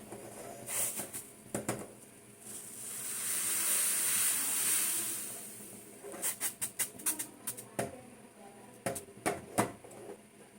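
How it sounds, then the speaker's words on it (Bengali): Milk coming to a rolling boil in a pot, a steady rising hiss and bubbling that swells for a few seconds before breaking into scattered clinks and pot taps. "দুধটাকে করি দেখো দুধটা ফুটে উঠেছে"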